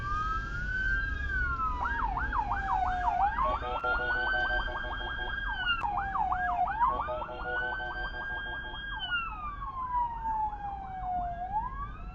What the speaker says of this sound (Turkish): bu arada ambulans geliyor ama sağdan mı geliyor, soldan mı geliyor